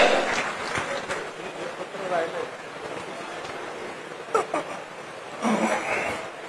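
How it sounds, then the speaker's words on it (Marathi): A crowd claps steadily at a party workers' rally in Jalna, with the applause filling the hall and a speaker's voice coming through over it. "जोरदार टाळ्या होत्या आदरणीय शशिकांतजी शिंदे साहेब"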